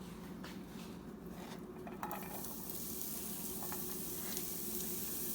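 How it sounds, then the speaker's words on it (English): Onion and chopped mushrooms fry in coconut oil in a pan, giving a steady, close sizzle that holds evenly throughout, with a few faint clinks and stirring scrapes on top. "in this coconut oil, we're going to fry the onion"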